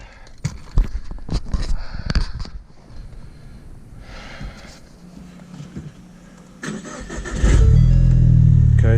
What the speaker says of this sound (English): what we're gonna do is start the car